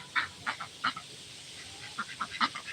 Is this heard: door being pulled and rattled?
no